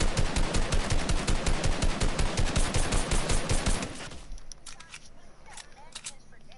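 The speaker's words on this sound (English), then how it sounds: "Eddie, shoot that wall." Rapid automatic gunfire in a video game, fired at a wall: a dense, loud burst of shots for about four seconds, then it stops and fainter background noise remains.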